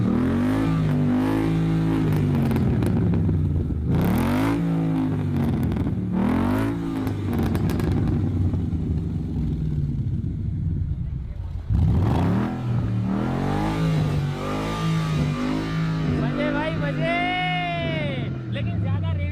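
A Ford Mustang GT sits in neutral with the handbrake on while its engine is revved repeatedly, loud rising and falling surges over a rumbling idle, close by, with brief voices at the end.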